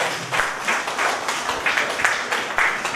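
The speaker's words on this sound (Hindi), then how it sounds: "एक बार दोनों के लिए जोरदार ताली बजाइए" A crowd applauds the two stage hosts at a Hindi poetry festival in Palam, Delhi, with dense, steady clapping that swells in rhythmic waves for about three seconds and has no talk over it.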